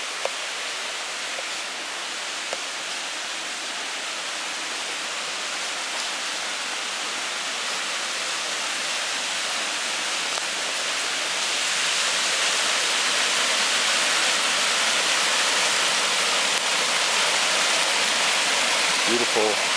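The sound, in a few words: creek water flowing near waterfall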